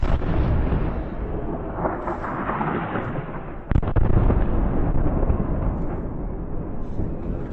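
A building collapses in a long, heavy rumbling roar of falling debris, with a sharp crack partway through followed by continued loud crumbling and grinding.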